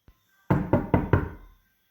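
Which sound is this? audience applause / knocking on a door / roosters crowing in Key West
knocking on a door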